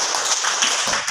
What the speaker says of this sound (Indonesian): Oke, mantap, sebuah tepuk tangan